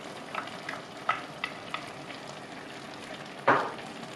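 Chopped tomatoes tipped into a pan of softened frying vegetables for a mushroom vegetable stew, giving a steady soft sizzle with a few light stirring knocks and a louder hissing burst near the end.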